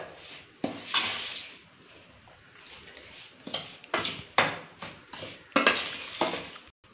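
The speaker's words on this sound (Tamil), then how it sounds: "நல்லா இப்படி கலக்கி விடுங்க." A spoon scrapes and knocks against a pan or bowl as a pottukadalai laddu mixture is stirred with ghee in a home kitchen, in close, irregular bursts of clatter with quiet gaps between.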